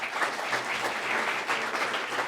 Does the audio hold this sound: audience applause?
yes